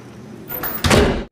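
A door closes in a horror film scene, a short sliding rumble ending in a solid thud, close and clear, lasting just over a second.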